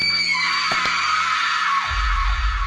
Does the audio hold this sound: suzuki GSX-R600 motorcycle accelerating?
no